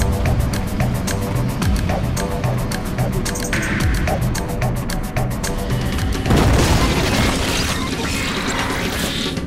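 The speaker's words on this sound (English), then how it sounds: "Did that mouser explode on purpose?" A Mouser robot blows up in TMNT: Out of the Shadows, giving a loud crashing boom about six seconds in over a busy bed of game effects, metallic clanks and impacts.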